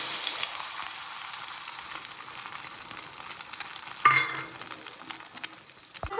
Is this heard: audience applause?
no